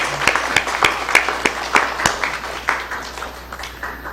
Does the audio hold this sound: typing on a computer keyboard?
no